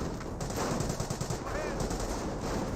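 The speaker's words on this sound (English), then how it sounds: "Looks like the Panzer Grenadiers receiving a bit of fire" Gunfire rakes Panzer Grenadiers in the Company of Heroes video game, a dense rattle of rapid shots and bursts heard steadily throughout, with faint talk underneath.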